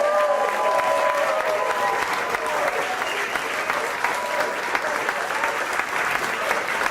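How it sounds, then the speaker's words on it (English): An audience at a Mar-a-Lago dinner for GOP senators applauds a speech, with steady, dense clapping from a large room that holds evenly throughout. "Susie deserves a great round of applause."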